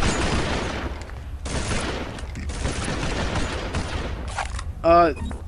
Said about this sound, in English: Screw it, I'm just using dual pistols now.